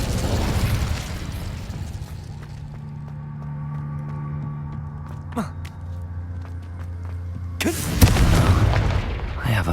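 An Incendio fire spell bursts out in Hogwarts Legacy during a fight with a giant spider, a sudden whooshing blast after a stretch of low rumbling ambience, with a voice heard during the fight.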